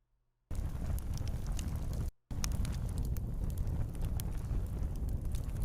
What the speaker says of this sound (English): short, relaxing, crackling fire sounds for sleeping and relaxation